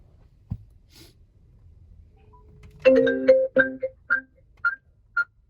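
An incoming-call ringtone plays from the aftermarket Android screen in a Mercedes Vito, a short melodic sequence of bright electronic notes following a quiet cabin, fairly close and clear.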